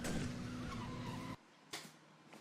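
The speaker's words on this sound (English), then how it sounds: "the tire screeching" Tires screech loudly for over a second as a car skids, then cut off abruptly, followed by a short thump and a fading noisy burst.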